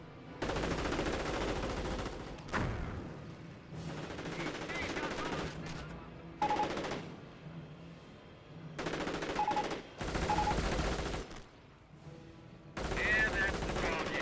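Machine gun fire in Company of Heroes, a World War II real-time strategy game, comes in repeated long bursts and rattling volleys with short pauses between, while a commentator talks over the battle.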